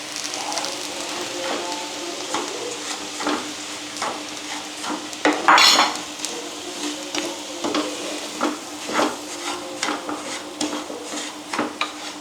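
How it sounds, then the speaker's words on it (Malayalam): Semolina roasts in ghee in a pan over low to medium flame for laddu, with a spoon repeatedly scraping and stirring in an uneven rhythm over a soft, constant sizzle, close up and with no talk. "ഒരു 3 to 5 മിനിറ്റിൻ്റെ ഉള്ളിൽ നമുക്കിത് വറുത്തെടുക്കാം"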